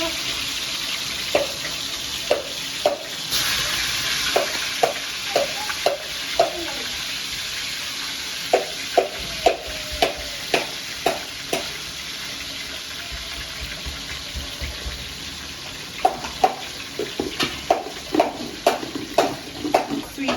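Fish frying in a pan, a steady sizzle running throughout with repeated sharp clicks and taps of a utensil against the pan, fairly loud and close.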